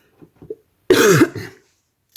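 A single harsh, close cough with a throat-clearing quality from a person with the flu, preceded by a few soft breathy sounds.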